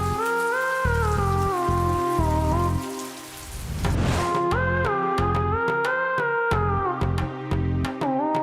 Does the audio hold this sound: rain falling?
yes